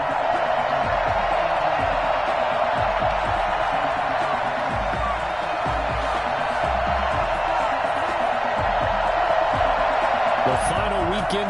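Stadium crowd at a Buffalo Bills versus New York Jets matchup in an EA Sports Madden football game: a steady, loud wash of crowd roar running under a commentator's voice throughout.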